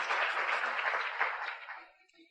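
Audience applause at a convention, a dense wash of many hands clapping at moderate distance that holds steady, then thins and fades out over about two seconds.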